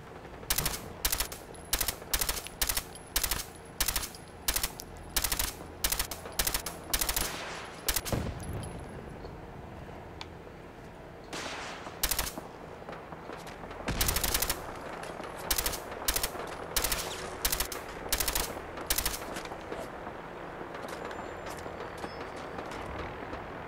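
Gunfire in the video game Fallout 4 rings out as rapid, evenly spaced shots in bursts, then scattered heavier blasts, loud and close with a faint background rumble.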